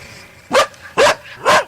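Police K-9 dogs searching the back property of a house give three sharp, loud barks, evenly spaced about half a second apart against a quiet background.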